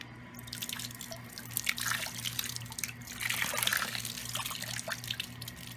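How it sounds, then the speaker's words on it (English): Aquarium water splashing and trickling steadily into a discharge bucket nearby, with drips and gurgles and no talking. "I'm just gonna empty this water into my discharge bucket."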